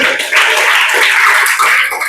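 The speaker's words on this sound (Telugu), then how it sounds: "ఒకసారి అందరూ చప్పట్లు కొట్టారు గట్టిగా" A church congregation at a sermon claps loudly together, a dense and sustained burst of applause lasting a couple of seconds with no speech over it.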